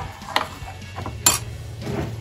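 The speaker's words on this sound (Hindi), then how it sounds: "चलाते ही रहना है कंटिन्यूसली" A spoon scrapes and knocks against a pan while sweet chutney is stirred, giving a few sharp clinks over a low background hum with no talking.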